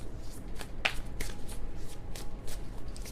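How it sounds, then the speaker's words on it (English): Tarot cards shuffled by hand in a series of quick riffling bursts with a sharp snap near the start, close and moderately loud, with no voices. "That was kind of a sloppy shuffle"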